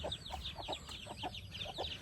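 Several chickens cluck and call in short bursts, fairly close, in a backyard with turkeys, over a steady low background rumble with no talking.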